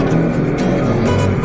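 Lowered, stance-modified Mitsubishi Delica engine running close by, a loud steady raspy rumble filling the short moment without a break.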